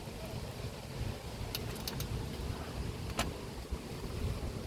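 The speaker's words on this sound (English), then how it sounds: "it's getting windy" Strong wind during a severe thunderstorm with 60 mph gusts, a steady loud roaring rush of air buffeting the microphone, with a few brief sharp clicks and knocks partway through.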